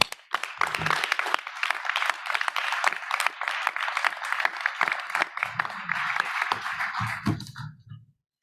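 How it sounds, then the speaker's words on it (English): Board meeting audience applauding faculty, staff and students, a sustained patter of many hands clapping at moderate volume, with some low murmuring underneath before the clapping dies out. "I hope the board will join me in giving them a great round of applause."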